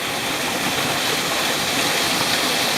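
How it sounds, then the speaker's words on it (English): A small waterfall feeding a mountain stream in Linville Gorge, North Carolina, in spring: a steady, close, full rushing of falling water that fills the whole stretch without a break. "And then right upstream from it's a beautiful little waterfall."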